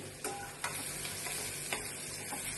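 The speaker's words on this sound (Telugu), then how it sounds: "పసుపు కరివేపాకు వేసిన తర్వాత కొంచెంసేపు మగ్గనిస్తే తర్వాత మనం చిక్కుడుకాయలు వేసుకోవచ్చండి." Curry leaves and turmeric fry with onion in a pan, a steady close sizzle with a few sharp ticks and clicks from stirring.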